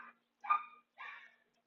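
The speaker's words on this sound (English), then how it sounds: "He literally looking at me in the window and barking at me like he don't know who I am." A dog at a window gives three short, close barks with brief pauses between them, and the room is quiet otherwise.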